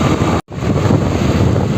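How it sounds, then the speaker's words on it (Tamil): Wind buffets the microphone while riding a Honda Shine 125 on an open stretch of road between Palani and Dindigul. It makes a loud, steady, broadband roar that cuts out completely for a moment and then rushes back in. "இந்த இடத்துல மட்டும் கொஞ்சம் காற்று ஓவராக வீசிட்டு இருக்குது."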